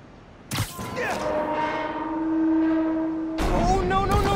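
A train on the tracks in Spider-Man: Miles Morales rumbles steadily, with a sustained horn-like tone running through the middle and a loud burst at the start and again near the end.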